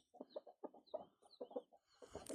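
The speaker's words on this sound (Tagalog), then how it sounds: "Isang manok guys oh." A chicken clucks in a quick series of soft, close clucks, about a dozen short bursts, ending with a louder squawk as a faint voice comes in.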